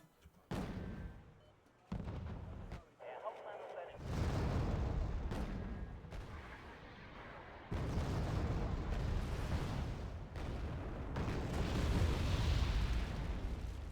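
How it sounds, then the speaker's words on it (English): Mortar rounds explode in a tank battle video game alongside artillery fire, with heavy booms and sustained rumbling blasts layered loudly over one another across the whole stretch. "Good mortar rounds."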